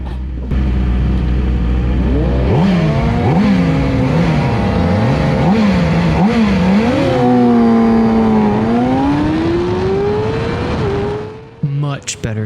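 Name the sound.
middleweight Supersport motorcycle race start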